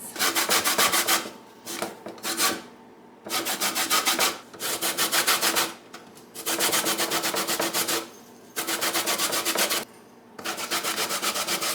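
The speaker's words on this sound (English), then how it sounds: "I've zested my lemons" Three lemons are zested by hand, making rhythmic bursts of dry, close scraping strokes separated by short pauses, with no speech.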